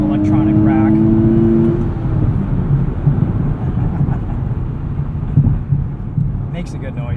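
A car engine and exhaust drone loudly while driving, with a rising rev early on that settles into a rough rumble, and talking over it.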